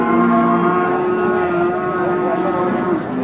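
Jumbo Simmental cattle at a livestock market in Pati, Central Java, one letting out a long, loud, close moo against a busy market background.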